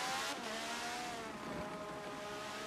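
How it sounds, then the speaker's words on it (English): IndyCar race car engines in Forza Motorsport, a dense, high-pitched engine whine that holds loud and steady throughout, with tones shifting as cars pass by on track. "Let's take a moment and listen in on these IndyCar engines here in North America."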